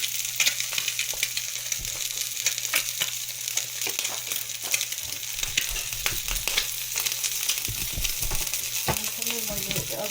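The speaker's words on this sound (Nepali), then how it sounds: "मैले एगलाई फ्राई गरेँ" An egg fries in a pan for egg tacos, hissing and sizzling steadily and close, with light spattering crackles and occasional soft clinks throughout.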